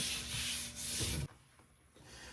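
Brisk back-and-forth rubbing of 220-grit sandpaper on an olivewood charcuterie board, two strokes, then a quieter pause.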